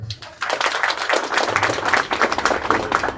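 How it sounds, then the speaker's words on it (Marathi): An audience at a senior citizens' association annual general meeting applauds, a dense, fairly loud clapping that starts abruptly and continues steadily for a few seconds. "आपण सर्वांनी जोरदार यांच्यासाठी टाळ्या वाजवाव्यात"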